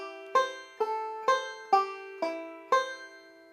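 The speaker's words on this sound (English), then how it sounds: "now we're going back to the flat 3 in that F shape that we were in the A part, and it sounds like this" A banjo plays a phrase of the tune Crazy Creek in an F-shape chord position around the flat third, six bright plucked notes at an even moderate pace, each ringing and decaying, close and clear with no talking.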